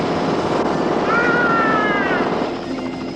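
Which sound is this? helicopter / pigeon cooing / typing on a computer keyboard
helicopter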